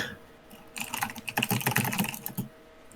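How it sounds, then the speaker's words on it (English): Rapid, loud clatter of keys on a mechanical keyboard, starting after a quiet moment and running in a dense burst of clicks for about two seconds before trailing off, close to the microphone with no talking. "I am never conscious about just how loud the fucking mechanical keyboard is."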